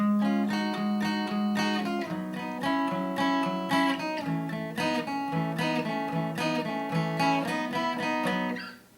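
A guitar plays a bright, rhythmic strummed passage with steady chord changes and a moving bass line, close and clear, with no talking.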